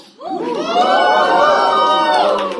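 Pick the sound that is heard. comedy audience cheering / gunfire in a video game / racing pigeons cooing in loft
comedy audience cheering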